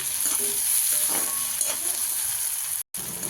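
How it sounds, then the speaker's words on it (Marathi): Masala for chicken sukka sautéing in a pan over a low flame, a continuous close sizzle with soft stirring scrapes, breaking off in a brief gap near the end. "पाच दहा मिनटं असं जर परतून घ्यायचं बारीक गॅसवर लालसर होईपर्यंत"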